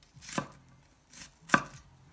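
A kitchen knife chops through an onion on a board, two crisp separate cuts about a second apart with a faint tap between, close and quiet with no talk.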